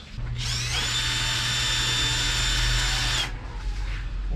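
A power drill whirs in a single sustained burst of about three seconds during repair work on an electric fan, close and loud, starting and stopping cleanly, with a low hum beneath and no talking.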